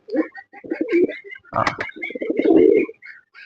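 Pigeons cooing close by in a loft, a series of throaty, rolling coos and short calls over about three seconds, with no speech.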